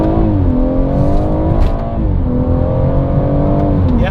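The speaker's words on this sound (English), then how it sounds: "you have to let these cars rev out as well if you really want to enjoy it" An MG classic car engine revving close up, a loud droning tone that climbs and dips in pitch through several rises with no talking.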